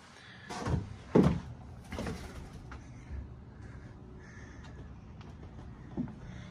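An apartment door opening onto a private balcony in a penthouse flat, heard as a couple of muffled knocks and a soft thud with a faint creak, fairly close against quiet room tone.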